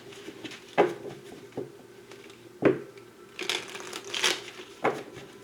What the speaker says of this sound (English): One more time to shuffle the deck.